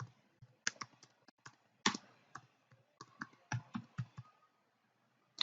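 Fingers tap on a computer keyboard, entering text in a network diagram, in irregular bursts of close, crisp key clicks with short pauses, tapering to quiet near the end, with no talking.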